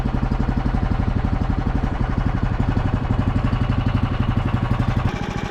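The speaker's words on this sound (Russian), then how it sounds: "Вот видите, прогрелся двигатель, все нормально запускается." A warmed-up vehicle engine runs steadily at idle and pulls away, a loud, even low throb with a rapid regular pulse near the microphone, shifting slightly in pitch toward the end; no talk.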